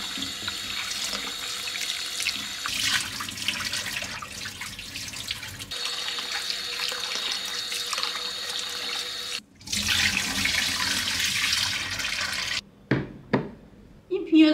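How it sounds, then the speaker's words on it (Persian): Lentils are rinsed under a running kitchen tap for a Persian dal adas dish. Water gushes steadily into the sink, briefly stops and starts again, and ends with a few clinks and handling sounds. "الان من این عدس رو ببرم بشورم"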